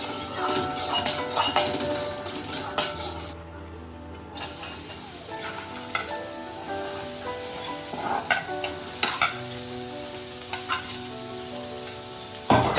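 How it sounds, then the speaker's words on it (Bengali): Vegetables fry in butter in a pan with a loud, crackling sizzle, broken by clinks and stirring scrapes from a spatula, with a short quieter pause partway through. "চলুন বাটার দিয়ে ভাজাটা ভেজে নিই"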